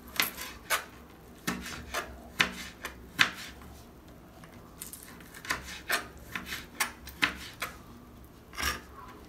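Lemon peel sliced finely with a knife on a board, a series of short crisp cuts and taps in irregular rhythm, close and fairly quiet.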